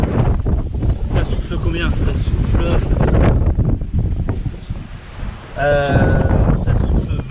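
Strong wind of about 20 knots roars across a sailboat moving at sea. The gusting rush and surf noise are loud and constant, with a voice briefly heard through it.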